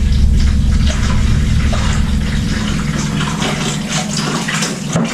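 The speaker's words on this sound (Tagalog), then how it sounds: "Ang makikita nyo guys, yan, pagsisip-sip niya na yung mga dumi-dumi." Dirty water being siphoned out of a small crayfish aquarium, a steady continuous rushing and gurgling flow that stays loud and close throughout, with no talking.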